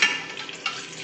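Potatoes being stirred in a pan on a home stove, boiled soft and cooking with a little water; a steady close sizzle with soft scraping stir strokes, no talk.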